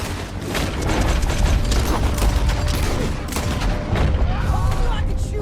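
Gunfire in Red Dead Redemption 2 during a shootout, dense repeated shots and clattering mechanical reloads in a busy, loud stretch, with voices talking over the action.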